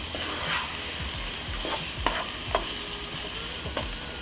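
Garlic and onion sautéing in a pan, a constant moderate sizzle with several sharp scrapes and taps of a utensil stirring, no voices.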